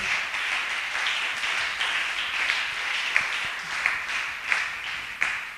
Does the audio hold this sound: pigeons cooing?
no